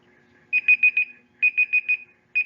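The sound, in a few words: quiz countdown timer sound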